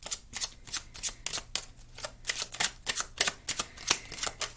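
A small pocket deck of oracle cards is shuffled in quick riffling bursts, a rapid run of crisp papery flutters close by, with no talking.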